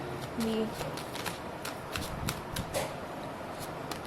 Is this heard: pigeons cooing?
no